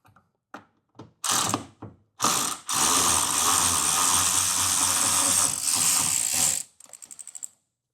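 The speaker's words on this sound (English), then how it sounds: "now I got this battery operated wrench, so shouldn't take very long to take. There's 3 bolts." Battery-operated wrench removing bolts from a 1971 Chevelle windshield wiper motor: several short loud bursts, then one long continuous whirring run, ending in a quick string of ratcheting clicks, all close up.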